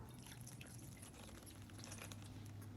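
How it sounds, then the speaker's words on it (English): Water poured from a cup over beef tongue in a slow cooker, a soft steady splashing and trickling that runs evenly throughout at close range with no talk. "and then top it with the 1 cup of water."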